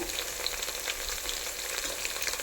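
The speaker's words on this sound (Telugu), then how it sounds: "మన ఆనియన్స్ గోల్డెన్ బ్రౌన్ కలర్లో కొంచెం వేగిపోయాయి" Onions fry golden brown in a pan, giving a steady close crackling sizzle with fine popping throughout, no voices.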